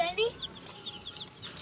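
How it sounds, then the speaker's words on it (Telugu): Colourful young chicks kept at home chirp in a series of short, high peeps, fairly close, with a brief cluck early on and a quiet indoor background. "ఈరోజు అయితే మా ఇంట్లో రకరకాల కోడి పిల్లలు మొత్తం ఉన్నాయి"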